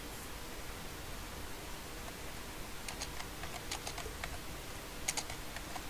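Computer keyboard typing during copy-and-paste work in Excel, soft scattered keystrokes in short clusters over a steady hiss, faint and close, no talking.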